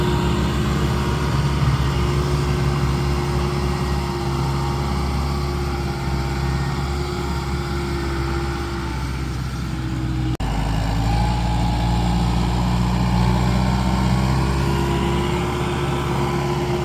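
A farm tractor engine runs at a steady idle throughout, a constant droning hum with a brief dip midway, loud and close with no talking.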